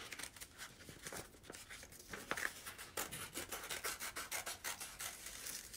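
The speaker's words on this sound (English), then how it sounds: "Oh my goodness, there's a lot of cutting in this one," Scissors snip steadily through paper for a children's storytime craft, a close, rapid run of rasping cuts and rubs that quickens into regular strokes toward the end, with no talking.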